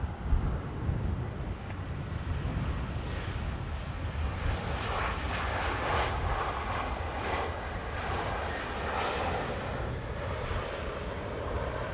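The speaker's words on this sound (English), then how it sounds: "Aer Lingus A330 inbound from Chicago" An Aer Lingus Airbus A330 airliner inbound from Chicago arrives at Dublin Airport in a crosswind, a sustained roaring engine noise mixed with wind buffeting, swelling slightly midway, without talk.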